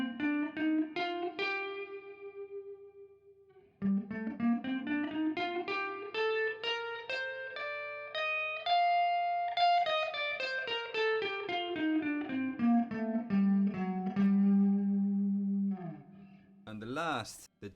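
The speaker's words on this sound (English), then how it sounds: "the minor scale in this position sounds like this" Electric guitar with effects playing a minor scale in one CAGED-system position, a steady run of single notes rising smoothly to a peak and then descending, ending on a sustained low note, close and continuous with no talking.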